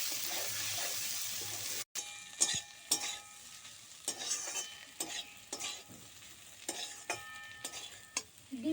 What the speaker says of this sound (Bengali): দিয়ে দিচ্ছি ভেজে রাখা ডিম, দিয়ে খুব ভালো করে মিশিয়ে নেব।